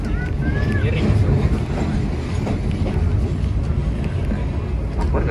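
The Siliwangi passenger train runs along the rails through the Cimandiri fault section, making a loud, steady rumble with rattling carriage noise and heavy wind buffeting, continuous and close, with a brief squeal early on.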